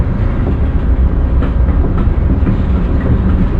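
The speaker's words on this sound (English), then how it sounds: "We're talking about the rail underneath the train." Wheels of the Amtrak Carolinian passenger train rumble loudly and steadily on the rails, with a continuous close clatter and no voices.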